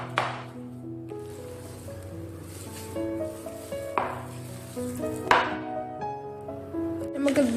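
Risen doughnut dough is kneaded on a countertop, with a few soft thumps and slaps over quiet background music.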